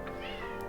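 A house cat gives a single short, fairly quiet meow, close by, with a faint background murmur.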